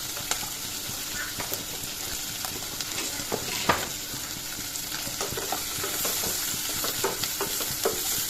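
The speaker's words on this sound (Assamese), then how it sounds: "এইখিনি লৰাই দিম অলপ কৰি" Spices, including turmeric and chili powder, sizzle in a frying pan while being stirred, a steady hiss under repeated light scraping and tapping of the utensil against the pan, close and continuous.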